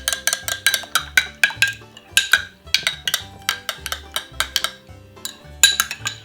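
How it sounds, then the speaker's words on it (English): Spoon clinking and scraping against a bowl as fruit and half a lime are stirred together, a quick repeated rhythm of close, bright taps with no talking. "give it a lovely stir"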